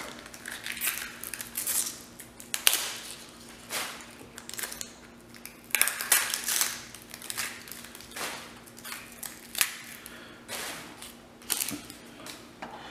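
Papery outer skin being peeled off an onion by hand in a kitchen: close, dry crackling and tearing rustles in irregular bursts, with brief quiet gaps between pulls and no talking.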